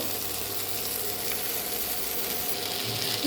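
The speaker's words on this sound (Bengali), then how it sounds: "পাঁচ মিনিট আমি এটাকে ফ্রাই করবো" Pomfret sizzling in butter on a hot tawa, a steady, even crackle of frying that holds at a constant level with no voices over it.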